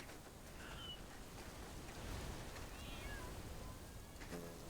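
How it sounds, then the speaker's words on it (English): A cat meows faintly a few times, thin drawn-out cries that sit under a loud steady wash of outdoor noise and rustling, distant and partly masked. "Did I just hear a cat?"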